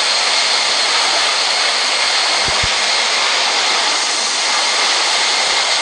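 Airliner jet engines roar at takeoff power in Real Flight Simulator, a loud, steady broadband rush that fills the whole stretch with a couple of brief low thumps midway.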